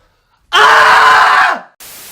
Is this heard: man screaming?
yes